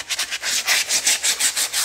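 Steady back-and-forth rubbing of sandpaper on the sole of a custom Vans bowling shoe, close and fairly loud, about nine rhythmic strokes in under two seconds.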